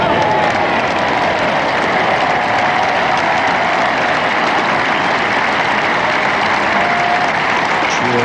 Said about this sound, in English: Cheer from English fans